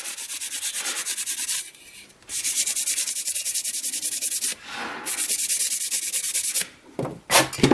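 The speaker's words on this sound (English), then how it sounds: "clean them. I'm using WD-40, doesn't matter what you use. Very lightly, so that you can inspect your parts very well." Engine covers from a Mercedes M156 V8 being rubbed clean with WD-40, a steady scrubbing friction in repeated strokes of a few seconds each, separated by brief pauses, close and fairly loud with no talking.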